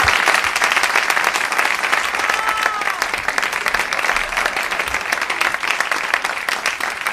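An audience applauds at the end of a play, a steady, evenly dense patter of clapping hands that carries on for several seconds at moderate volume.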